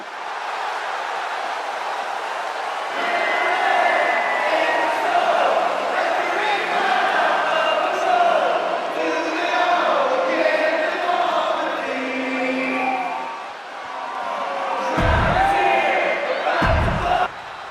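A large arena crowd in the WWE 2K26 wrestling video game roars and cheers continuously, swelling loud and dense with whoops and chants, followed at the end by a couple of heavy thumps.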